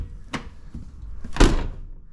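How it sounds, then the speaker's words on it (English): An Autozam AZ-1 car door with new custom struts is shut twice: a lighter knock first, then a harder, louder slam with a dull thud, both close by with no talking. "You actually have to put effort into slamming the door shut now."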